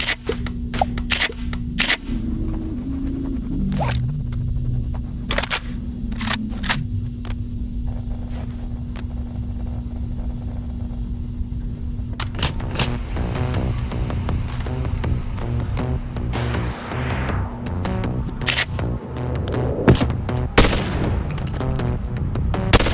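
AK rifle fired in the VR shooter Bone Lab, loud sharp shots: scattered single reports, then denser rapid bursts over a steady low hum, with no talking.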